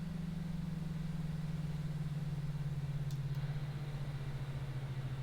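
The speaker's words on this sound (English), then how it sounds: "Listen to the spool down." Airbus A320 engine number 2 spooling down after shutdown at the gate in the X-Plane 11 flight simulator, a steady low drone that slowly falls in pitch over a constant background hum, with no other sounds.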